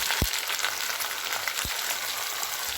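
Onion paste frying in butter with bay leaves makes a steady, moderately loud sizzle, with two brief low thumps.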